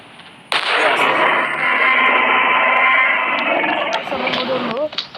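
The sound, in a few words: gunshot in a dinosaur-hunting video game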